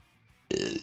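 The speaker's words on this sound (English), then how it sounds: "Oh god, that was a hot burp." A single loud, throaty burp erupts after a moment of near silence and lasts just under half a second.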